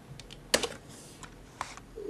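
Computer keyboard keys click a few times at close range, quiet and sparse, one sharper press standing out among the taps.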